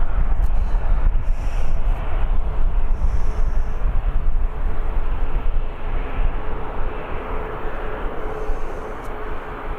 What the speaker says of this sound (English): the 777 is manoeuvring about as well